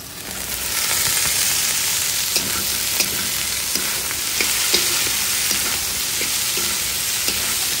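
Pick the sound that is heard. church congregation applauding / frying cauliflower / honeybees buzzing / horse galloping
frying cauliflower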